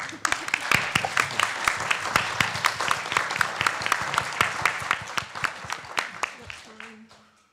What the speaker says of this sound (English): And I think on that we give Tom Hunter a clap